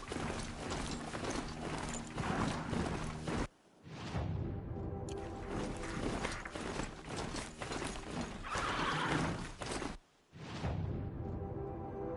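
A Strider mount gallops in a video game, a steady rhythmic stream of hoofbeats and mechanical clatter with brief pauses, with no talk over it.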